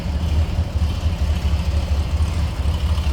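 A 1980 Chevrolet K10 Custom Deluxe 4x4 engine idles steadily, a low, even, slightly lumpy rumble heard from nearby and continuous throughout with no talk.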